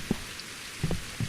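Rain falling at night in the survival video game Survival Postapocalypse Now, a steady soft patter with a few dull thuds, heard on its own.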